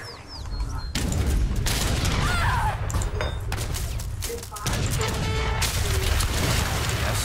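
A musket volley crashes out in an Age of Empires 3 battle, with loud bursts of gunfire amid clattering combat noise and battlefield voices.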